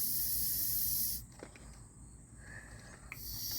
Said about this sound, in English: You can hear the vacuum escape.